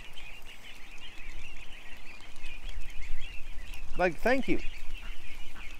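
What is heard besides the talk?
ducks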